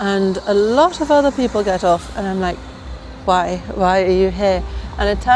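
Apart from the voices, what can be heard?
None of the usual background noises is heard.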